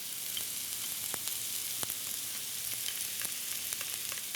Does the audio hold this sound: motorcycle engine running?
no